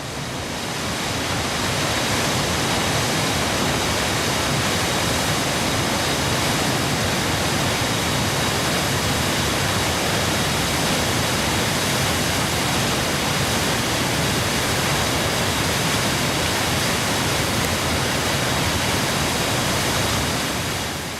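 The Dhancho waterfall on the Manimahesh pilgrimage route rushes in a steady, dense roar that runs unbroken and loud throughout, with no voices.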